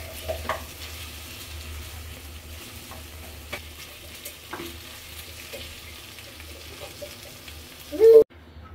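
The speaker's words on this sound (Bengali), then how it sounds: "আলুটা বেশ সময় নিয়ে ভাজতে হবে।" Potatoes frying in a pan make a soft, steady sizzle with scattered spoon clicks and scraping, ending in a brief louder knock.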